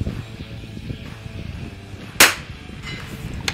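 A Christensen Arms Ranger carbon fibre rifle shot strikes a target, heard as one sharp, loud crack midway through, followed by a fainter echo-like burst near the end over a low outdoor background.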